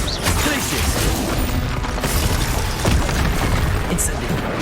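The Glacius spell from Hogwarts Legacy goes off in a burst of booming, crashing impacts with rumbling mechanical clatter. A voice shouts over the noise.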